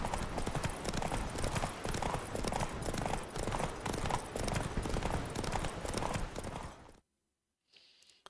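A horse's hooves clip-clop in a fast, steady rhythm across ground in The Witcher 3, loud and close for about seven seconds before cutting to near silence, with a faint sound at the end.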